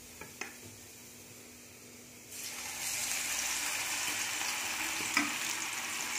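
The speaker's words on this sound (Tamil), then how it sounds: "இப்போ அதில் நான் போட்டு பொரிச்சு எடுக்க போகிறேன்." Beetroot chutney mix dropped into hot oil in a kadai, with a couple of light clinks first, then a sudden burst of loud, continuous frying sizzle that holds steady close by, with one sharp clink near the end.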